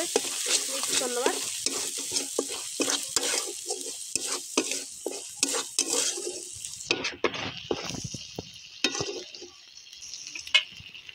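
Spices being stirred and mixed in a frying pan for a paneer gravy, with rapid rhythmic spoon scrapes over a bright sizzle that grows quieter and sparser partway through, close and clear, with no speech.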